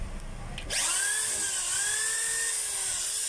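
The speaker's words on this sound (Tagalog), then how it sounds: "Pag tahimik lang, yun yung drill." An electric drill whirs up to a steady high-pitched whine after a brief rustle and holds it, close and continuous.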